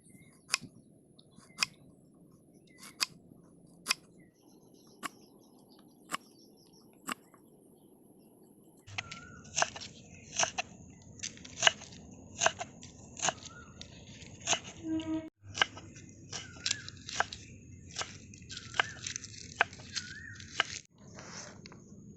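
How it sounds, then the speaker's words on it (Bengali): Ginger being chopped finely with a knife on a cutting board: quiet, crisp clicks, sparse and slow at first, then quicker and more continuous, close but faint. "আদা কুচি কুচি করে কেটে নেব।"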